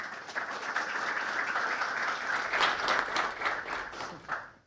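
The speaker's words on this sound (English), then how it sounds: "So let's give a quick round of applause." Steady audience applause fills a conference panel session on enterprise-funded building connectivity in New York, a dense, even clapping from a seated crowd that holds for several seconds before tapering off.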